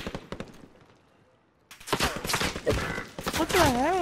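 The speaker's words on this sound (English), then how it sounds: "He's shooting me through a wall." Rapid gunfire from Call of Duty Warzone, shots fired through a wall: a dense burst of quick cracks early, then after a pause a loud sustained volley with a voice talking over it.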